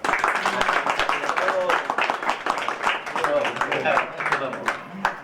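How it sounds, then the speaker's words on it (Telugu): An audience at a district-level children's literature forum in a colony hall claps loudly and steadily throughout, a dense continuous patter of many hands with some voices mixed in. "ఒకసారి గట్టిగా చప్పట్లు కొడితే"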